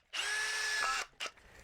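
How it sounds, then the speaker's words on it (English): A power drill whirs steadily for almost a second into a 1978 Kenner R2-D2 toy, winds down, then gives a short second burst, close and loud with no talking. "I'm going to drill this way."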